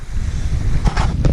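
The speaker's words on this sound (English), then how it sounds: "It's a bit windy here" Wind blows hard at the coast at Hope's Nose in Devon, a loud, steady low rumble of microphone buffeting with brief gusts near the end.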